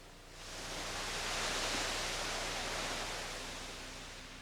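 A pressure washer sprays water onto a textured decorative concrete surface, a steady, broad rushing hiss that swells slightly as the nozzle moves, heard alone without voices.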